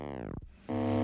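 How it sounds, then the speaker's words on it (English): Low-cut, bit-crushed synth bass from a Chord Player plugin, a harsh gritty tone that sweeps down, briefly drops out, then returns as a buzzy sustained note, short and close. "I low cutted it and then I bit crushed it."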